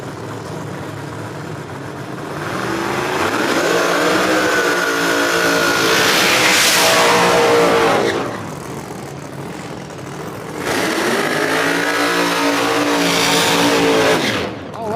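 No-prep drag race cars at National Trail roar down the track in a loud, sustained blast of engine noise that swells, dips briefly, then surges again close by, with no talk.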